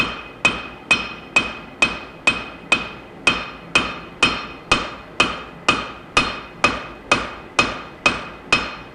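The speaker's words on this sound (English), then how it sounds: "One key when you're using a cross peen is you got to make sure to use enough force." A cross peen hammer strikes a wootz steel chef's knife blank on an anvil during forging, about seventeen sharp ringing blows at a steady, even rhythm, loud and close with no talking.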